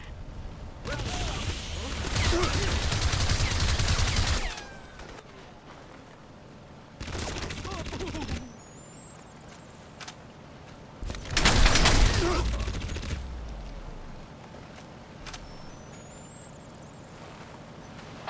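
Heavy gunfire and explosions in the video game Crysis Remastered, with three loud bursts of shooting and impacts separated by quieter stretches of ambience.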